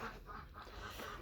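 A domestic goose on a backyard farm gives a few faint, short honks in quick succession, alone without talk, with a soft outdoor background.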